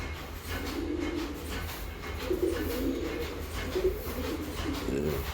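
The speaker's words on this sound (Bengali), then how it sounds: "একটা নর পায়রা" Repeated low cooing from a male pigeon, several soft rolling calls in close succession over a steady background hum.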